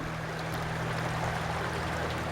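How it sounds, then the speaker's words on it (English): A small creek on the Yosemite North Rim trail flows in a steady, dense rushing babble, close and continuous with no pauses or voices. "Now this is a creek"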